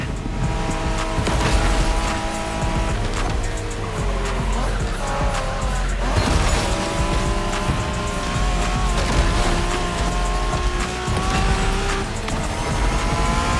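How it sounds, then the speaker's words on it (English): Street racing cars in The Crew Motorfest, a video game set in Japan, roar continuously with engine revs rising and falling and tires squealing through turns, loud and busy throughout. "We're going for some proper Japanese street racing."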